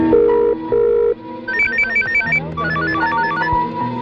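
An old-style telephone rings loudly in a Kannada film scene, giving two long bell bursts followed by a warbling electronic tone pattern, with no voices over it.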